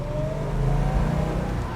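A 1971 Plymouth Barracuda engine revs loud and close, a steady deep rumble that swells slightly without any talk over it.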